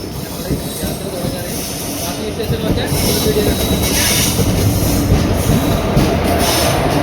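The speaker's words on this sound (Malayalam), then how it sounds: "കറക്റ്റ് ഒമ്പത് ഒമ്പത് കാലായപ്പോൾ ട്രെയിൻ വന്നിട്ടാണ്" A passenger train pulls in on the Nilambur line, its wheels and carriages making a loud, continuous rumble with rattling and a faint squeal of wheels on the rails, steady and close throughout.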